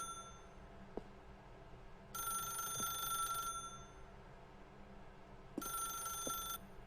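A telephone rings in The Stanley Parable video game, two long bursts of a bright electronic trill separated by a pause, fairly loud over a low steady background hum with a few soft knocks.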